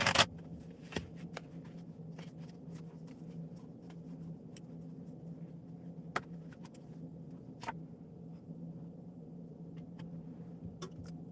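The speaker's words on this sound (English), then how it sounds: "You guys saw me shuffle that deck." Quiet shuffling of a deck of playing cards, with soft papery riffles and scattered sharp clicks over a low steady hum. No one speaks.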